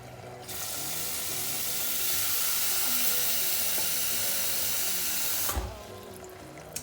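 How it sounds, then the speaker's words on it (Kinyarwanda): Water gushes into a pot for boiling macaroni, a steady loud rushing hiss that starts abruptly, holds for about five seconds and cuts off with a small clunk. "Ngiye gushyiramo amazi."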